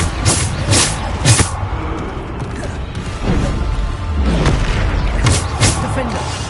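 A Bombarda blast spell from the video game Hogwarts Legacy, heard as several loud booming explosive bursts with crashing debris amid ongoing game sound effects and voices.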